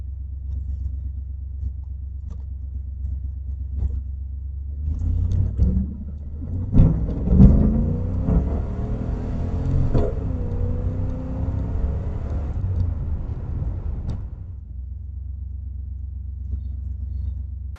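A 3rd gen Chevrolet Camaro with a 305 TPI V8 is driven on the road. The low engine drone swells into a louder stretch of acceleration and whir midway, then settles back to a steady hum.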